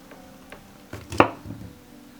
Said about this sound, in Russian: И нарезаем рулет.